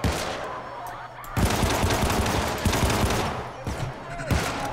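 Rapid bursts of gunfire crackle in a video game, dense volleys and single shots breaking out repeatedly with brief lulls between them, loud and close throughout.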